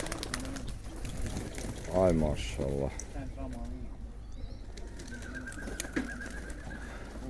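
Pigeons released from an opened loft at a racing pigeon event coo softly and repeatedly close by, with short bursts of flapping wings, while someone speaks over them now and then.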